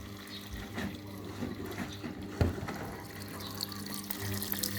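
Steady running water pours and splashes into a washing machine drum, with a continuous wash of flow and a few small knocks.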